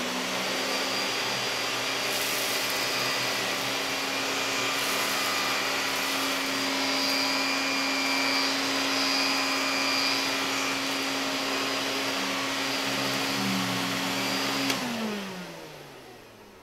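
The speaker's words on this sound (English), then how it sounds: "when I think of vacuum, this is the sound that comes to mind" An Electrolux Olympia Special vacuum cleaner runs steadily with a loud whine and hum for about fifteen seconds, then powers down, the motor pitch sliding lower as it winds off.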